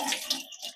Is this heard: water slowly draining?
yes